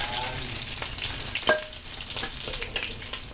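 Canned fish and egg stir-fry in a full pan, a steady loud sizzle with scraping stirring strokes and one sharp clink of a utensil against the pan, close up and without speech.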